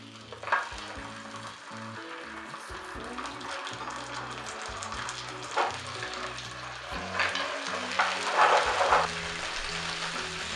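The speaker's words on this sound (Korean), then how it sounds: "프라이팬이 클 때 팬을 기울여 기름을 모아서 마늘과 고추를 튀기듯이 볶아줍니다" Garlic and chili frying in oil pooled in a tilted pan, with mussels already added, for a seafood tomato pasta. A steady close sizzle with crackling bursts swells and fades, over faint low background tones.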